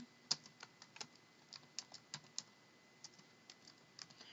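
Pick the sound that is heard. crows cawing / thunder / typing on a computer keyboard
typing on a computer keyboard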